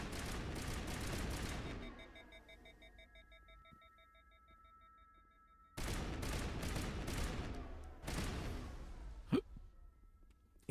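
Pistol gunfire in the video game Mass Effect: two dense bursts of rapid shots, with a ringing electronic tone in the quieter gap between them and a sharp single crack near the end.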